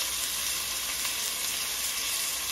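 Pork chops browning in a frying pan, a steady, dense sizzle that holds evenly and fairly close throughout, with no voices.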